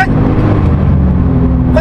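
A Porsche sports car on a road holds a loud steady engine roar close to the microphone as the car is braked during a driving session, with a brief higher tone near the end.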